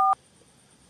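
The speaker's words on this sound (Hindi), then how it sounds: "तो तुम्हारे फोन से तुम खुद का फोन लगाओ एक बार" A mobile phone gives a single short, clear keypad dialing tone right at the start. Faint, quiet background hiss follows for the rest of the moment.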